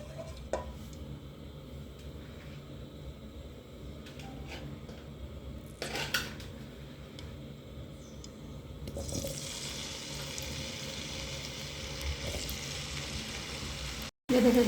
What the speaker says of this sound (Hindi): ये देखिए गाइस अरबी हमने डाल दी है और इसको अच्छी तरीके से फ्राई कर लेंगे।